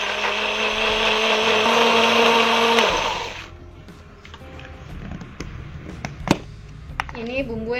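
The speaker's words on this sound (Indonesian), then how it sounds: "memblender bumbu yang akan kita haluskan. Kita tambahkan sedikit air untuk memblender." A blender grinding spice paste with a little water whirs loudly for about three seconds, then cuts off, leaving quiet clatter and kitchen handling noises.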